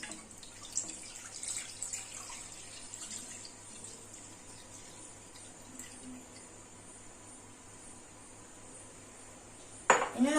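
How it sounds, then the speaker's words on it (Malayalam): 50 ml of milk poured into a pan on the stove for homemade condensed milk, a faint steady liquid trickle for several seconds ending in a brief clatter. "ഇനി ഞാൻ 50 മില്ലി പാലിലേക്ക് ഒഴിക്കുകയാണ്."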